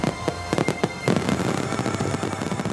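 Fireworks launching and bursting at a staged fireworks show in a rapid series of sharp cracks and booms, followed by a dense crackling rumble, loud and fairly close.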